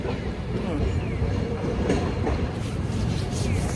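A tram in snowy Hakodate, Hokkaido, rumbles past nearby with steady rolling wheel noise and faint clatter, a continuous loud roar throughout.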